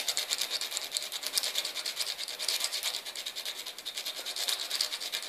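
An 18650 battery rubbed with a small piece of 100 grit sandpaper, a close, steady rasping scrub in quick back-and-forth strokes, hissy and bright, continuing evenly without pause.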